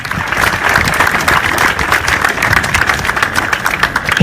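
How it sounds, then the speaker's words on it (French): An audience applauds to welcome Monsieur Keman, a workers' representative, at an anti-CFA franc rally in Senegal, steady loud dense clapping throughout without pause. "J'aimerais s'il vous plaît que vous accueillissiez avec vos applaudissements Monsieur Keman"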